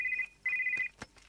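A telephone rings indoors with two short electronic trilling bursts, followed by a faint clatter.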